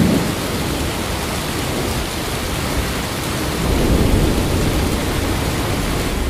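Heavy rain pours down over a village at night in a dense, loud, unbroken wash of noise, with deeper rumbling swells running through it.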